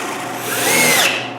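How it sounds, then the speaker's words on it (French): A drill press bores into a maple bowl blank, removing the bulk of the wood in one steady, loud whine that climbs in pitch and holds for just over a second before easing off. "Ensuite, j'enlève la majorité du bois avec une perceuse à colonne."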